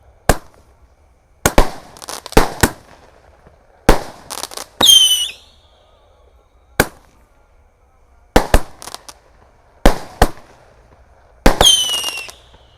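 Large Roman candle fireworks and firecrackers going off outdoors on the night of Takbiran, a series of sharp loud bangs at uneven intervals, with some bursts followed by rising whistling crackles.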